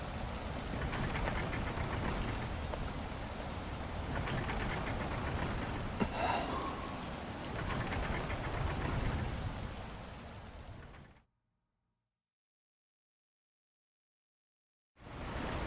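Steady rain pours in the video game Wild Hearts, a dense continuous wash at an even level that runs for about eleven seconds, then cuts to total silence before returning briefly at the end.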